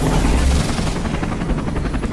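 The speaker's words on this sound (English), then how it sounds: "It's just like a news helicopter." A helicopter in Detroit: Become Human roars steadily with a fast, pulsing rotor chop, dense and close, with no voices over it.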